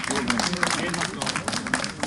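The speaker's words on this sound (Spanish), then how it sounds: "un aplauso para Mosco." Audience applause and crowd noise at a rap battle in Oaxaca, a dense steady wash of clapping throughout, with a host's voice speaking over it.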